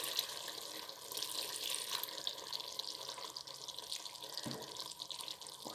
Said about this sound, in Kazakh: осылай ғана жып-жылы суды құйып, ет қатып қалмау үшін жылы су құямыз.